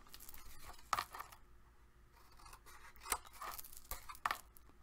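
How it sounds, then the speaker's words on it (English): Scissors snip through paper at an angle to trim off the corners of a trifold folio, giving several distinct close-up cuts with crinkling paper between them. "So I'm going to cut this at an angle so that I'm cutting off a triangle and getting rid of some of the bulk of the paper."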